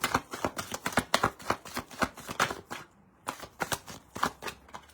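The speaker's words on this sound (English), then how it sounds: "Last shuffle." Cards are shuffled up close in quick riffling bursts, a rapid flutter of snaps that pauses briefly before resuming.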